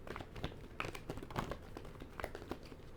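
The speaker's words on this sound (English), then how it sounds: "I'll keep shuffling for a minute" A tarot deck being shuffled by hand in quiet, close, soft papery riffles and taps arriving in an irregular run of crisp flicks.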